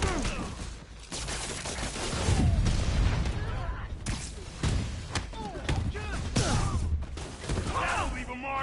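Gunfire during a fight in Spider-Man on PS4, dense bursts of shots and heavy thuds layered with game effects, with characters talking over the action.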